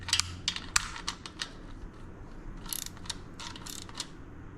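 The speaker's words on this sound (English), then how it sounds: "I'll put torque wrench on it" A torque wrench or ratchet works on the rocker box bolts of a twin cam motor, making quick bursts of sharp clicking up close, in short runs separated by brief pauses.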